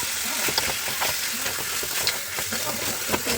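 Chicken pieces sizzle in a hot pan with sautéed ginger, garlic, salt and coriander powder. The frying hiss is steady and close, and sharp clinks of a stirring spoon land every half second or so.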